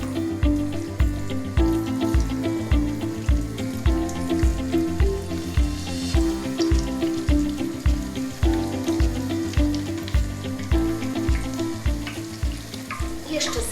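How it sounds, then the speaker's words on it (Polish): Cheese doughnuts and rings frying in hot oil, a steady bubbling sizzle with a regular pulsing rhythm, close and fairly loud, with no voices. "Widzimy, że elegancko zaczyna nam się smażyć i podnosi się do góry"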